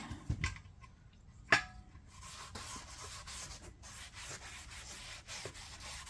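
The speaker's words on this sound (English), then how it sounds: "maybe we'll wipe down the body of this thing." A cloth wipes down the body of an antique one-gallon kerosene can in close, soft rubbing strokes, with a sharp tap early on and a continuous scuffing texture afterward.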